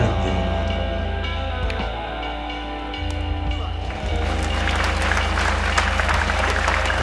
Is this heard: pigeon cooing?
no